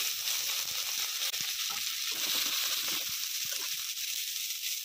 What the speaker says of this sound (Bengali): এবার বিনস দিয়ে দিচ্ছি। বিনস আর ক্যাপসিকাম দিয়ে দিচ্ছি।